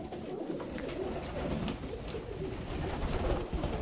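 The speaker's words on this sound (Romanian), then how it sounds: "porumbeii sunt la masa de seară" Fancy pigeons cooing while feeding at evening in a loft with shelves, a dense murmur of overlapping low coos and flutters that continues steadily throughout.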